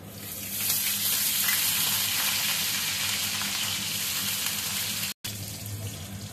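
Nigella seeds and garlic sizzle in hot oil in a frying pan, a loud, even hiss that holds steady before a brief cut near the end.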